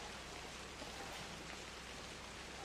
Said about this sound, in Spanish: Ahora que está lloviendo